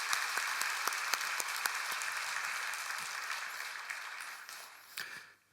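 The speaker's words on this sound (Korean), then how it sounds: "우리 하나님께 영광의 박수로 찬양합시다." A church congregation claps together during a Friday prayer service, a dense, sustained round of applause with sharp individual claps standing out before it fades near the end.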